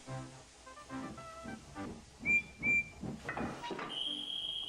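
A guard blows a shrill whistle twice in quick bursts for a departing train, clear and fairly close, followed by hissing steam and a higher engine whistle.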